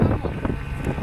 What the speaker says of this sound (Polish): Ale silnik już nie wyrabia ty.